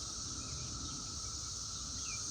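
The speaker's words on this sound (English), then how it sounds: "can you all hear the cicadas?" A constant high buzzing drone of cicadas fills the air, steady and unbroken, with no voices.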